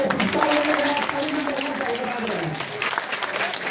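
Steady applause at a coaching centre award ceremony, with the clapping of a crowd running continuously and fairly close for the few seconds, and a voice briefly audible over it.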